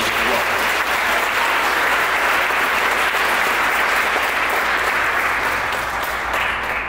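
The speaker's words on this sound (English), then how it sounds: "So we can give her a round of applause." An audience at a book talk with Dr. Ilyasah Shabazz gives her a full round of applause, a thick, even roar of clapping from a large crowd that holds steady throughout and fades slightly near the end.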